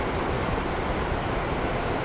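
A steady, loud rushing roar of a video-game train passing close by in a train simulator, with broadband rumble and no other sounds, constant for the whole moment.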